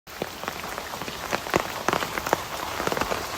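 Heavy rain pours down at a house, a constant close hiss peppered with sharp individual drips and splashes, steady throughout with no talking.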